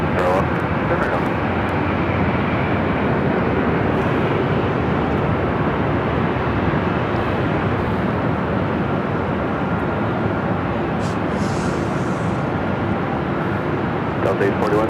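Lufthansa Boeing 747-8 Intercontinental airliner at Los Angeles LAX, a steady, loud broadband jet roar holding near-constant for the whole stretch with no pauses, like engines running close by on the airfield.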